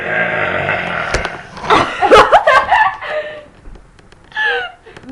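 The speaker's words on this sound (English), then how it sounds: "today we're going to show you how good we can burp" Girls force out loud burps on swallowed air alone with no carbonation, several croaky belches spread across a few seconds, mixed with gasps and giggling.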